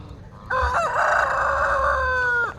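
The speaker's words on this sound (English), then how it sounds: "Roy, you have got to work on that crow." A single rooster crows once, close and loud, a sustained strained cock-a-doodle-doo lasting about two seconds in a farmyard with Brahma chickens, alone without talk.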